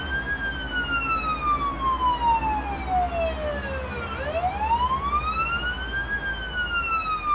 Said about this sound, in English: Alright, turn off our sirens.